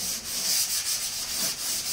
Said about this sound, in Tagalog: Magliha. Nasa liha ang yan.